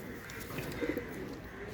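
A high-flyer Kaldom pigeon of the Khulna line at a Jessore farm gives a brief, faint low coo, one short burst against quiet room ambience.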